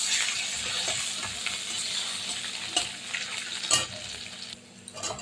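Garlic and green chilli frying in a hot pan, a continuous close sizzle with the occasional scrape and knock of a spatula turning them, with no voices.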